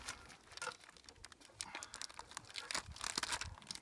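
Plastic packaging around lamb riblets being torn and pulled open, faint irregular crinkling and ripping close by with no voices.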